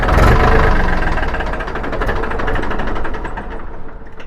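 A 2012 Farmtrac 60 tractor's engine idles steadily with a low, knocking chug throughout, loud and close, easing slightly toward the end.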